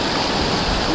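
A mountain river rushes during a trek in the Mandani Valley of Uttarakhand, its loud, steady roar close by and filling the whole moment without any voices.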